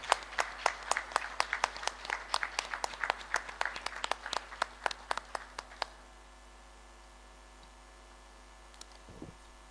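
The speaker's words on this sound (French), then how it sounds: "Sous vos applaudissements, s'il vous plaît." Applause breaks out at a formal congress assembly as a run of distinct, fairly close claps from a modest crowd. It thins out and stops after about six seconds, leaving quiet room noise.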